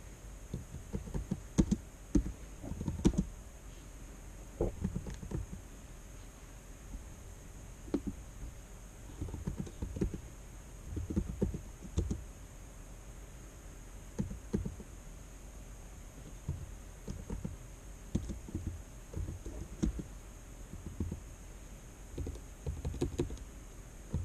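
Keys on a computer keyboard tap in short, uneven bursts with pauses between them, quiet and close, over a faint steady background hum.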